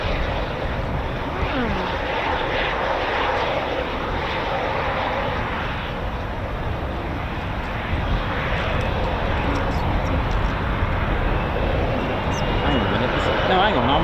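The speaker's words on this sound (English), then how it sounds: "Yes, the Austrian Typhoon." An Austrian Air Force Eurofighter Typhoon jet arriving at an RAF Fairford air show produces a broad roaring engine rumble that swells and shifts over several seconds, with people talking over it.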